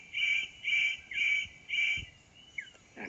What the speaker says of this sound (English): The superb bird of paradise calls to attract a female.